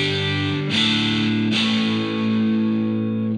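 Distorted electric guitar played through a Two Notes Torpedo Captor X load box and cab simulator set to the Dynamic Bass 20 cabinet, two strummed chords ringing out loud and sustained with no talking.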